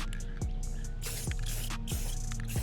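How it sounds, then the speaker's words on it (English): Spray paint hisses in repeated bursts onto an e-bike frame and derailleur, close and steady, with faint clicks and knocks between passes. "I kind of sprayed the derailleur over there"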